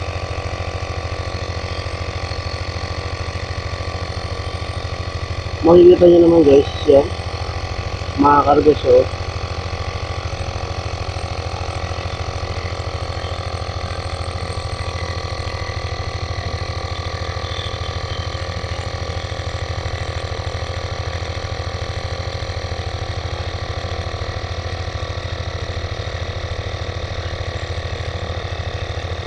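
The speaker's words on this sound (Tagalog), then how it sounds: "Magalaw yung ating compressor." A portable air compressor runs with a steady, continuous mechanical hum and vibration throughout, close and even in level, while someone speaks briefly twice over it.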